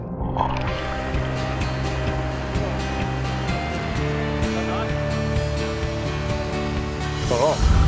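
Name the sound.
river rapids during vehicle crossing of the Snowy River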